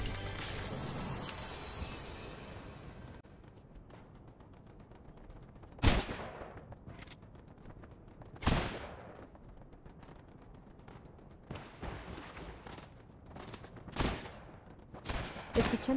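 Gunfire from the Fortnite video game rings out in sharp, separated bursts over a steady background hum, with several loud single shots and a flurry of quicker pops toward the end.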